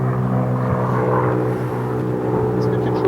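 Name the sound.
airplane passing overhead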